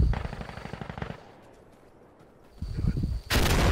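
Gunfire-like bursts open the scene in Insurgency Sandstorm, then after a quiet lull a grenade detonates with a loud, sudden blast near the end, followed by more sharp noise.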